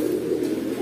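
Pet pigeons in a fancier's collection cooing in a steady, low murmur, close and continuous with no talk over them.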